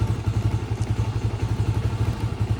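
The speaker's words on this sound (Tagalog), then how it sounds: "Pagkaputol ng kill switch, aandar na yung motor natin." A Euro 150 motorcycle engine with a cut kill switch runs close by in a steady, rapid thumping idle with an even clattering beat throughout.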